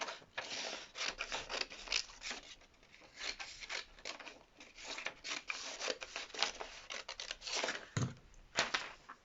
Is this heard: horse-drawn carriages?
no